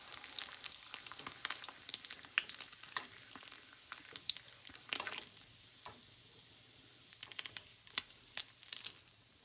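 Bacon frying in a pan on a home stovetop, a steady crackling sizzle with sharp pops and spatters scattered throughout, fairly quiet and close, with no voices.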